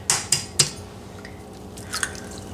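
A large egg is cracked into a mixing bowl: three sharp, bright taps in quick succession, then a few softer wet clicks in a quiet kitchen.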